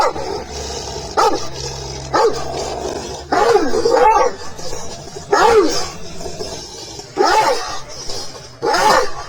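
An agitated dog barks in repeated loud bursts, some sharp and some yelping, with low growling between them, close by and without talk.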